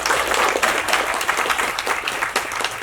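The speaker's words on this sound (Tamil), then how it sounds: "இந்த சபை கைதட்டுவதை பார்த்து நீங்கள் புரிந்து கொண்டால்" An audience at a Tamil film's song and trailer launch event breaks into steady, dense applause that fills the hall from start to finish with no speech over it.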